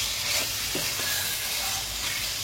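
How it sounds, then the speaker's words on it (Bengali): Chicken pieces frying with onions in a pan give a steady close hiss and sizzle, with faint scraping as they are stirred. "এবার চিকেনটাকে যতক্ষণ না চিকেনের কালারটা একটু চেঞ্জ হয়ে যাচ্ছে, ততক্ষণ পর্যন্ত আমি এটা একটুখানি নাড়বো।"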